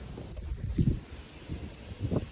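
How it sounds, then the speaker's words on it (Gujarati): Steady rumbling wind buffets the microphone with low gusts swelling and fading, a blustery outdoor roar throughout. "પવન આવે છે બહુ"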